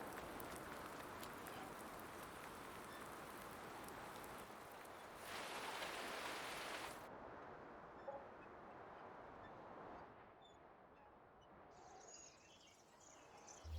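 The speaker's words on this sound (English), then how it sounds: "wait out the old rain" Steady rain falling in the Farming Simulator 19 video game, a continuous soft hiss of droplets that is quiet throughout and eases slightly toward the end, with no talking.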